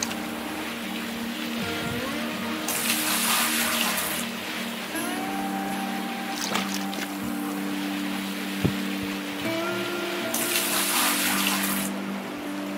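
Water sprays and splashes steadily while washing down mining equipment in the Gold Rush video game in Haines, Alaska, with a continuous rushing hiss, some louder surges and low machinery hum beneath.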